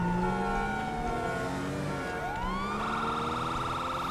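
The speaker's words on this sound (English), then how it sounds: "We went ahead and cut our sirens on." Police car siren in GTA 5 LSPDFR, rising and wailing continuously over a loud engine while chasing a Bugatti, a steady tone shifting to a faster yelp partway through.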